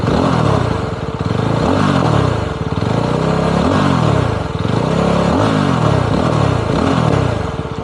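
A 2025 Yezdi Roadster top-model motorcycle in Shadow Black revving hard and close. Its engine note rises and falls in repeated throttle blips about once a second over a loud, clattering idle.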